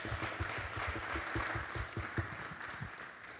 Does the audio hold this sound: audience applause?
yes